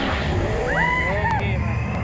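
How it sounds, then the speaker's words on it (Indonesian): An airplane passes in the Talking Tom Gold Run mobile game, a synthetic whooshing drone with a brief swelling pitch sweep, heard over steady game background noise. "Pesawat."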